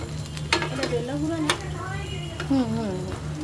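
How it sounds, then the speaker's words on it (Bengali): Fish frying in mustard oil in a pan, a steady sizzle broken by a few sharp clinks, over a constant low hum with voices talking nearby. "তারপরে আমরা সরষা তেলের মধ্যে ভেজে নিচ্ছি।"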